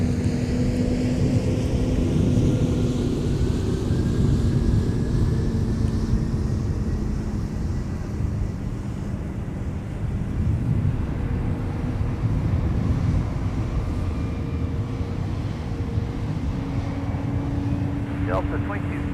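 Jet airliners taxiing at Minneapolis–Saint Paul airport produce a steady, loud engine roar with a slowly shifting whine, blended with wind noise on the microphone and continuous talk over it.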